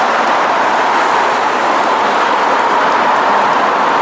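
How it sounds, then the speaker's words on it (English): Steady, loud broadband rumble and hiss of a subway train running, a continuous roar filling the space without pause. "noisy in here, subway."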